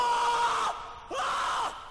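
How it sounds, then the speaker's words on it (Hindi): A man screams in two long, strained cries separated by a brief gap, loud and close, during a frightening night. "चिल्ला क्यों रहा था?"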